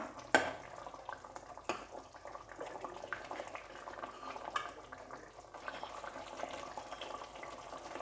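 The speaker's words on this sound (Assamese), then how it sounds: "আৰু এতিয়া মই দিম অকণমান জিৰা ধনিয়াৰ গুড়ি। এনেদৰে লৰাই দিলো।" Ground cumin and coriander are stirred into a simmering egg curry in a pan, producing soft, irregular scraping and bubbling sizzle, with a sharper clack near the start, all quiet and close.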